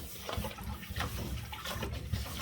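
Water gurgles and rushes steadily out of a bathtub as it drains after ink-stained clothes have soaked in it. The low, continuous swirl of the drain is close and moderately loud, with no speech.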